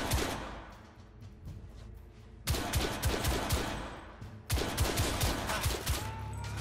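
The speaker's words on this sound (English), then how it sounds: "Last bullet fired." Gunfire in The Order: 1886 as the player switches to a revolver: many sharp shots in quick bursts, two loud volleys at about 2.5 and 4.5 seconds over a noisy battle backdrop.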